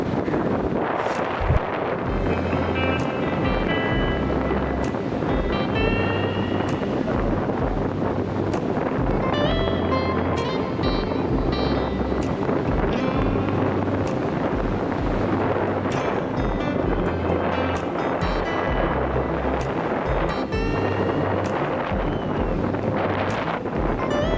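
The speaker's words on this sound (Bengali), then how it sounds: "জলের তোড়ে এবং ঢেউয়ের ঝাপটা খেতে খেতে" Rough sea surf at Puri beach, where fishermen haul a boat ashore through big waves, heard as a continuous loud roar of breaking water buffeted by heavy wind noise on the microphone.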